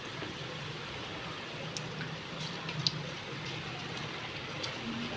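Onion pakoda batter fries in hot oil, a steady hissing bubble that keeps going throughout, with a couple of small pops and no talking.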